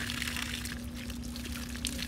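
Water is poured over the face of a giant tortoise in a steady, close splashing stream that runs throughout without a break, with no voices.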